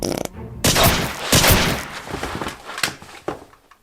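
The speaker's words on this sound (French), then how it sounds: "Une fusillade débute dans laquelle les forces spéciales se font flinguer plutôt que toucher leurs adversaires." A gunfight in an action movie as special forces are shot down, with loud bursts of gunfire and impacts in quick irregular volleys, then scattered thuds.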